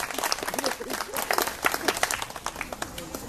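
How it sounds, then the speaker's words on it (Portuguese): An audience applauds a child, dense steady clapping from a crowd with some voices mixed in, moderately loud throughout. "Dá uma salva de palmas para ele."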